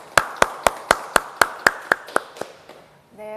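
An audience at a forum on climate and eco-friendly living claps to welcome a speaker. About ten crisp, evenly spaced claps come through close and loud, fade out, and a voice follows at the end.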